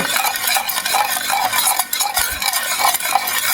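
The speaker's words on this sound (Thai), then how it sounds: "พยายามคนให้ส่วนผสมมันเข้ากันนะคะ" A utensil stirs shrimp and glass noodles in a hot pan, giving continuous close scraping and shuffling under a steady sizzle, with no talking.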